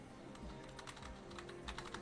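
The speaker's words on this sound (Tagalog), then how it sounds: "Ay, nagtatype ako, buisit." Quick, irregular taps on a computer keyboard during a game session, faint and close, with small clusters of keystrokes over a low steady background hum.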